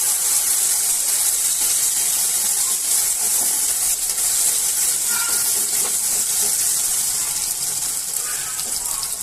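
Mustard seeds, cumin, asafoetida, chillies and chopped potato sizzle in hot oil in a home kitchen pan, a steady close hiss running the whole time with faint crackles and stirring.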